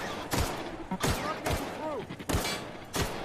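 Gunfire in the video game The Outer Worlds: five sharp, loud weapon shots at roughly half-second to one-second intervals, with game sound effects and chirps between them.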